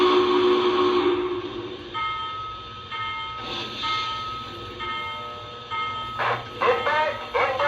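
Steady rumbling rail noise with sustained tonal whines and brief clanking, like a train car moving along tracks, continuous throughout.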